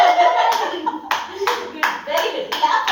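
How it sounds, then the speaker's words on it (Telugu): A young boy claps his hands after singing, producing a series of about six sharp, close, evenly spaced claps with a voice talking over them. "క్లాప్ చేస్తాడు"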